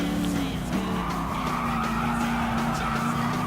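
Classic muscle cars race online in Gran Turismo Sport, with a continuous loud engine roar and squealing tires running steadily throughout.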